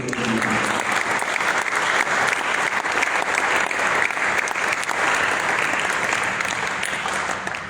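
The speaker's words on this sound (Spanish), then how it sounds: "Un aplauso a Cristo" A church congregation at a Spanish-language rally seminar breaks into loud, dense applause that holds steady for several seconds, a continuous wash of clapping with faint crowd noise.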